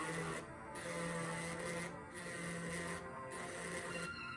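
An engraving Dremel tool scores the back of a brooch with a steady, close, high-pitched whirring grind, broken by short pauses at regular intervals.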